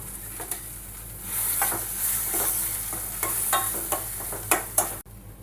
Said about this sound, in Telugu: ఇప్పుడైతే మిల్ మేకర్ అయితే హాఫ్ కట్ చేసిన అండి, ఇందులో వేసుకొని అయితే ఇది కొంచెం ఫ్రై అవ్వనిద్దాం.